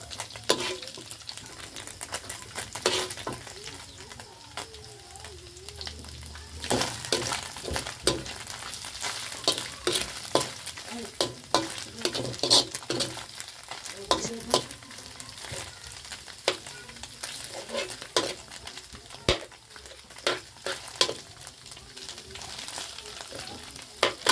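Pansit noodles sizzling and being stir-fried in a hot pan, with a steady crackling fry broken by frequent sharp scrapes and clatters of the utensil against the pan, close and fairly loud throughout.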